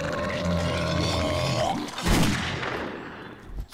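A heavy, booming magnum revolver gunshot in 7 Days to Die erupts amid a dense rumble of in-game noise and effects.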